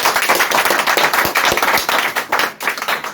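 Loud, dense applause from an audience welcoming a speaker at a Green Planet organic farming event, steady clapping throughout with no voices.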